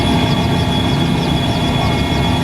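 Mi-17 helicopter engine running steadily at close range during a high-altitude flight in Siachen, a continuous dense roar with a deep rumbling low end and a thin high whine, unbroken throughout.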